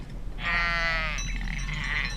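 A Columbia sheep bleats once on a ranch in north central Oregon, a clear, loud, wavering cry lasting about a second and a half over a low steady background hum.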